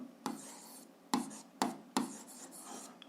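Pen writing on paper while working out a grade 7 algebra exercise: a few sharp scratchy strokes start and stop in a quiet room, close and fairly soft, with no talk.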